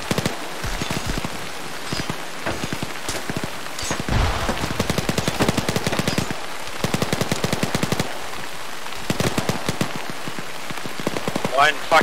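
Rapid bursts of automatic gunfire from the military shooter game ARMA 3 crackle continuously, with dense rattling volleys and a few single shots throughout.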